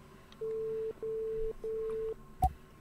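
A phone call hang-up tone in the horror game Play with Me: three steady electronic beeps, evenly spaced and moderately loud, followed by a short click, heard alone.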